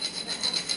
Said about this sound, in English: that's a teaspoon of grated nutmeg